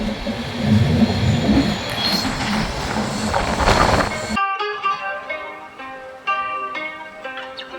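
The Jodhpur Express rolls along in a loud, broad rumble of wheels and carriages, which cuts off abruptly into steady tonal sounds.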